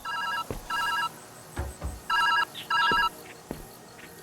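Phone ringing in the video game Viewfinder, a bright electronic ring in four short bursts in pairs, with a few soft footsteps or clicks in between.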